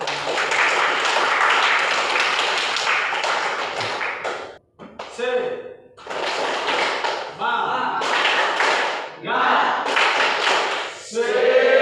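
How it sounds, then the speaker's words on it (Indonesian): A classroom group claps in several loud, close bursts with short gaps between them. Voices come through in the pauses. "Kita tepuk tangan sekali lagi untuk semua kelompok yang sudah berpresentasi."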